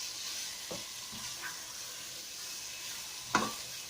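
Carrot halwa roasting in ghee over a full flame, a steady soft sizzle with a few scraping stirs and one sharper clink of a spoon near the end.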